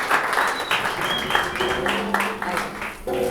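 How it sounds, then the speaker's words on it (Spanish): An audience applauds at a talk, with steady clapping running through and voices speaking over it close by. "le damos un aplauso para"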